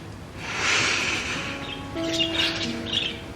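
Caged birds chirping and squawking at moderate volume, short tweets and calls scattered over a steady room background.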